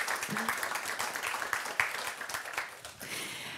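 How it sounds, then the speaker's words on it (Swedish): Moderate applause from a conference audience rolls on for a few seconds, fairly close, with a voice briefly speaking over the clapping. "Jag tycker vi ger en applåd."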